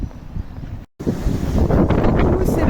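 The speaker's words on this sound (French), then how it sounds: "il y a beaucoup de vent" Strong wind buffets the microphone at a seaside cove in drizzle, a loud roaring gust with a brief dropout, then continuous rushing noise.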